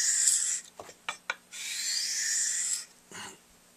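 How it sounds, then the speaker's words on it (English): Harsh abrasive rasping as rails are pushed and rubbed across sandpaper during refacing, loud sustained strokes with a few short scrapes between, no talk. "jamming the rails into the sandpaper"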